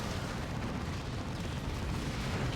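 Artillery piece firing in the real-time strategy game Dawn of War 2: Retribution, heard as a dense, continuous roar of booming blasts and rumble with no clear gaps, loud throughout.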